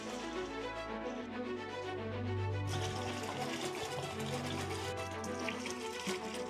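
Water pours steadily into a large container while ragi ambali is made in a Mysuru kitchen, a continuous close splashing fill with no talking.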